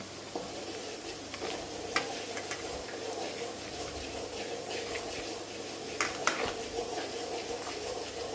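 Spice masala sizzling in a small amount of hot oil during tempering for homemade pav bhaji in a village kitchen, a steady close frying hiss with stirring scrapes and a few sharp clinks.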